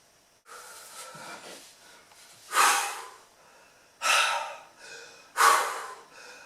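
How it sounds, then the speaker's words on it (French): Rapid, deep abdominal breaths during a yoga session: three loud, forceful exhalations with rushing, hissy airflow, evenly spaced and close up, after softer breathing at the start, with no talk. "rapide et profonde respiration dans l'abdomen"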